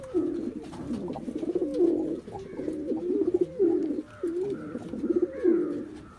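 Blue bar and black pigeons for sale coo repeatedly at close range, soft throaty rolling calls in overlapping bursts throughout.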